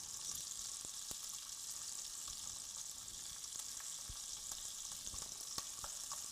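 Salted and peppered short ribs searing in a hot pan, giving a steady, dense sizzle and crackle with small pops throughout, close and continuous with no talking.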